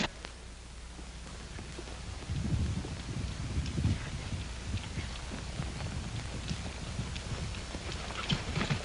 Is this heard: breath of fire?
no